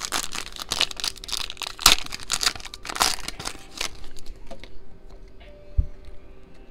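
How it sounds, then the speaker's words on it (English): Foil baseball card packs from a 2020 Select blaster box ripped open one after another, sharp crinkling and tearing bursts close up, thinning into quieter rustles of handled cards near the end. "let's grab our three packs out of here. 1, 2, 3, and let's rip."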